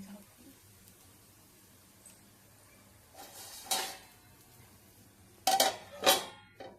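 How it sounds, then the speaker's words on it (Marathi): A lid is set over a pan of poha, with a quiet room followed by a few close metallic clatters and clinks spaced a couple of seconds apart. "आता हे मी झाकून ठेवलं"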